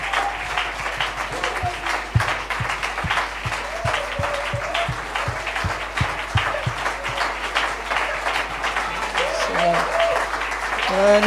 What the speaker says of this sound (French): Acclamons, levons-nous et acclamons.